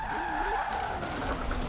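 A quad-rotor rotary-engine car drifts in Forza Horizon 4, with tires squealing and a whining engine note, loud and sustained in a short burst.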